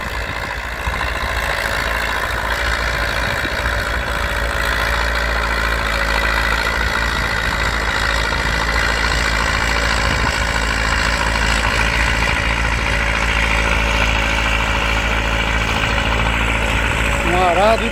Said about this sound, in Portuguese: Sente o ronco do motor aí.